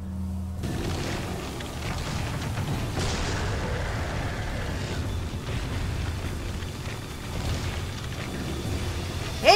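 Hand grenade detonating in Resident Evil 4, a deep boom followed by a sustained rumbling roar that lingers for several seconds.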